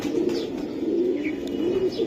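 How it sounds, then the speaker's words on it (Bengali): A Birmingham Roller pigeon coos in a steady, continuous low murmur, close and moderately loud, with a few faint higher chirps above it and no talking. "বার্মিংহাম রোলার কবুতর"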